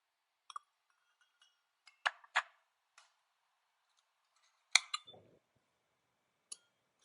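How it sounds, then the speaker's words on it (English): A spoon clinks sharply against a glass while a boozy hot chocolate with infused vodka is stirred, giving a handful of bright, separate taps and rattles with quiet gaps between them. "Give it a stir."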